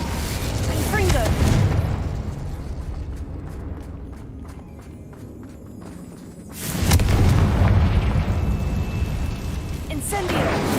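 Confringo fire spells blasting in the video game Hogwarts Legacy, several loud booming explosions with a big burst near the start and another heavy blast about two thirds through, over rumbling game ambience.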